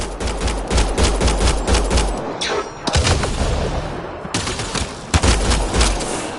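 Sustained automatic gunfire from a combat firefight in Mass Effect Andromeda, loud rapid bursts of shots with brief pauses and heavier booms mixed in, no voices.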